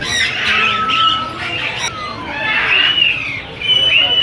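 Black-capped lory parrot at a bird market in Saddar, giving loud, harsh squawks in repeated bursts close by, over people talking and the general hubbub of the market.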